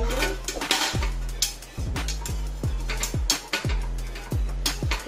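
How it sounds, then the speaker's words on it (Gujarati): Repeated ringing metallic clinks and scrapes of a utensil on a flat iron tawa as oil is spread over it before cooking Gujarati pudla, steady and fairly close, with no talking. "પહેલા આપણે આ તવા પર થોડું તેલ લગાવી દઈએ."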